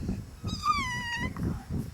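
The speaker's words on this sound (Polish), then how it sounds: "Tak miałczą kotki?" A small cat gives a single drawn-out meow that rises and then falls, heard close by over low background rustle and handling noise.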